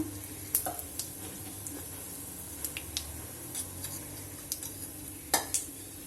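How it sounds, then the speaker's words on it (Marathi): Mustard seeds splutter and pop in hot oil in an Indian home kitchen cooking red pumpkin, with scattered faint crackles and a few sharper pops over a quiet background, no talking. "ती तडतडू देऊया इकडे मोहरी तड़तड़ी है"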